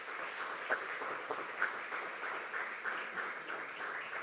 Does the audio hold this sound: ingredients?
no